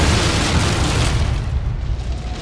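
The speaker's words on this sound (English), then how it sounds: "Cannons!" Cannon fire from pirate ships in an Assassin's Creed 4 game trailer booms in a dense, loud roar of explosions, broadband and continuous, with a faint rumble trailing off as it thins near the end.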